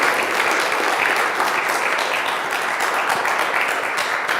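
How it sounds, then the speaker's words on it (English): Steady applause from a church adult forum audience for Hal, Kevin and Toya, a dense even wash of clapping that holds throughout without a break. "We have acknowledgement of applause for Hal and Kevin and Toya."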